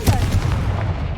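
A Confringo fire-blast spell cast in Hogwarts Legacy sends out a short, booming burst with a rumbling low end that rolls on for about a second.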